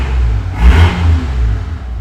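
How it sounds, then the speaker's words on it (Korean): Supercharged 2003 Mercedes-Benz W215 CL65 AMG V12, 606 hp, with its engine check lamp recently on, fires up and swells into a short, loud rev before settling into a deep, steady rumble, close and alone with no talk. "한번 시동 한번 걸어볼까요?"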